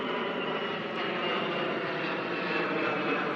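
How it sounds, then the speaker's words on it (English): An airplane passes overhead as a steady, broad engine roar at moderate distance, holding an even level throughout with no talk. "There's a plane flying over."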